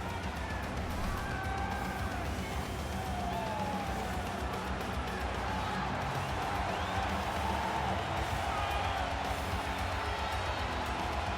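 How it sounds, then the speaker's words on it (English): An arena crowd at a UFC event roars as a women's strawweight champion walks out. The cheering is a dense, continuous wash under a distant, echoing announcer-style voice. "And as she makes this walk, you hear the crowd behind her."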